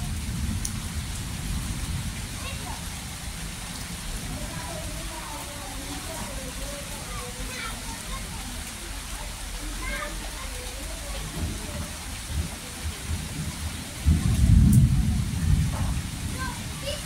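Rain falling steadily as a soft, constant patter and hiss, with a brief louder rumble near the end and people's voices and children talking faintly beneath it.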